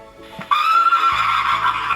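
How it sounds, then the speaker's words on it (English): A horse neighs loudly and close, a clear whinny held over the clip with a brief faint sound just before it and no talk. "What noise does this one horse make?"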